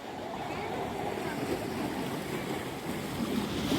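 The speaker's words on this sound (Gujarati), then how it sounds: "મોજા પણ સારા આવે છે અત્યારે." Sea waves breaking at Gomti Ghat in Dwarka at night, a steady, continuous wash of surf that holds a fairly even level throughout.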